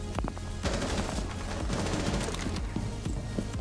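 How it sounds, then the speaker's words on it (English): Rapid gunfire shooting into a room in the video game Rainbow Six Siege: loud, dense bursts of automatic shots and sharp single cracks in quick succession, continuous for several seconds with no voices. "They're shooting into the room."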